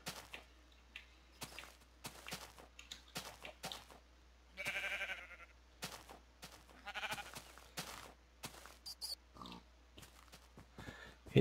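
Short oinks and bleat-like calls from a pig and other farm animals in Minecraft, repeated in scattered bursts at moderate volume with no voices heard.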